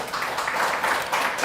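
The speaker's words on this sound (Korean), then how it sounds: "하나님께 영광의 박수를." A church congregation at a Korean Sunday worship service breaks into steady, fairly distant applause, many hands clapping together in an even, continuous patter.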